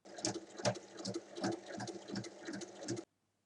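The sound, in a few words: sewing machine stitching bag lining on three sides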